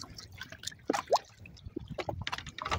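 A caught catfish is let go into the Río de la Plata, giving a scatter of small close drips and light watery plops with one brief brighter splash near the middle, over faint outdoor background.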